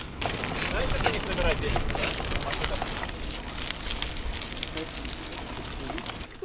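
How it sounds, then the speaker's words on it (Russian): A bicycle ridden along a trail in Turkey makes a close, continuous crackling rattle, with dense irregular clicks throughout. "Велосипед мой трещит, трещит."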